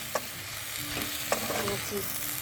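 Veg chicken chowmein with soy sauce stir-frying in a pan, a steady sizzle broken by a few sharp clicks and scrapes of the spatula against the metal, close and moderately loud, with no talking.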